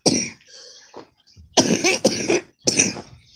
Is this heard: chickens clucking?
no